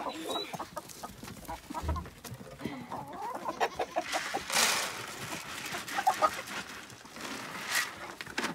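Chickens cluck and squawk close by in a snowy farmyard, a busy, irregular chatter of several birds with occasional louder calls.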